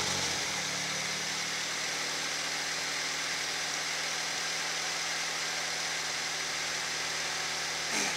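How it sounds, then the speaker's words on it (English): Four-cylinder Honda Accord engine starting up and settling into a steady, smooth idle, a continuous close hum with faint vibration lasting throughout. "Let's go ahead and start her up."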